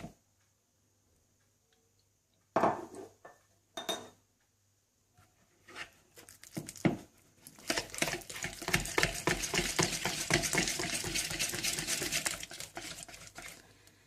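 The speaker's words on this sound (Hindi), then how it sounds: "सबसे पहले आप मक्खन डाल लें और इसे अच्छी तरह से बीट कर लें" Butter is beaten in a bowl for biscuit dough: a few isolated knocks come first, then a rapid, continuous run of close scraping and tapping strokes that grows steady and fairly loud before cutting off, with no voices.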